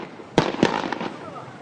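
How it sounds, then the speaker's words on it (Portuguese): Fireworks thrown at police during a protest on a São Paulo highway near a toll plaza: two sharp loud bangs followed by quieter crackling pops, over a noisy crowd background. "Pedras e rojões foram jogados na polícia"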